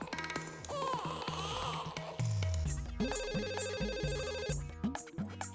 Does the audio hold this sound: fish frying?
no